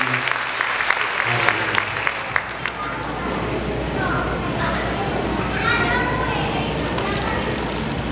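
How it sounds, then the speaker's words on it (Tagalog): Church congregation applause breaks out loud and sustained, a dense wash of clapping with scattered cheers, preceded by a few sharp claps and a voice. "Pwede po ba natin palakpakan si Lord?"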